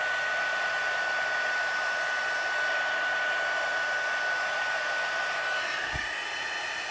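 A heat gun for melting embossing powder blows a steady, close, even hiss of airflow, with a faint brief knock near the end.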